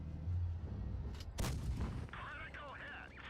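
A tank cannon firing in a tank battle video game gives one loud, sharp boom in the middle, with softer mechanical game sounds before it and after it.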